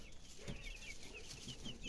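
Hens cluck softly in a short, irregular series, with faint chirping over a steady background hiss.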